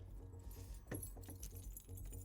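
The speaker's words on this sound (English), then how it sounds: "Keys. Why did I lock this door?" A bunch of keys jangles while a caravan door is being unlocked at a bush campsite, with a brief metallic rattle near the middle over a low background rumble, heard alone without talk.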